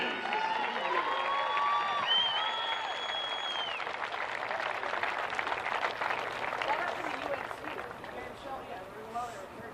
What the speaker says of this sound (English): let's have a round of applause for the Johns Hopkins Blue Jays